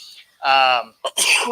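A single sharp sneeze bursts out at close range, with a short inhale before it and quick breathy noises after.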